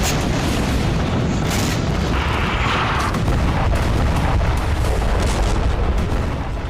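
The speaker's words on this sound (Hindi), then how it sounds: "हेलीकॉप्टर से लगातार फायरिंग हो रही है।" Sustained heavy gunfire from a Russian Mi-28 attack helicopter in a combat zone near Kursk, a loud, continuous roar of booming bursts with no pauses and no talking.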